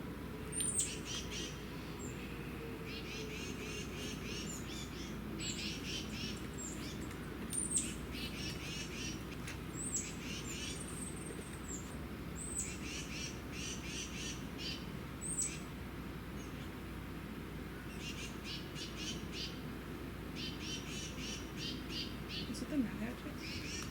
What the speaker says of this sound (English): Y'all hear them birds?